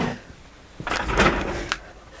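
A drawer slides open or shut at a craft table, one short scraping rumble with a soft knock at the end, fairly close and with no talk.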